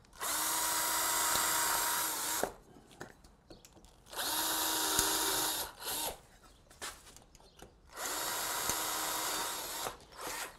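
Power drill boring holes through the lip of a metal pan, three loud whining bursts of about two seconds each, close up, with quieter handling noises in between.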